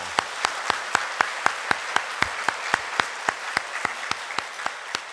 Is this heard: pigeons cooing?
no